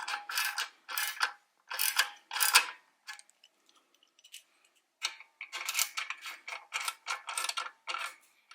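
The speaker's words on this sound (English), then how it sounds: "with my 8mm socket, just get them tight" Ratchet with an 8mm socket tightening bracket bolts, close bursts of quick clicking: four groups, a short pause, then a longer series of strokes, with no talking.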